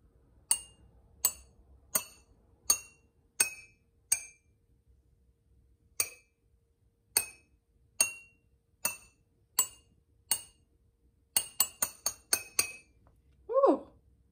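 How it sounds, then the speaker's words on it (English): A series of bright, ringing clinks as a metal straw taps a glass of water, evenly spaced at first, then a quick burst of taps near the end. "So I'm gonna try the metal straw first and see what it sounds like."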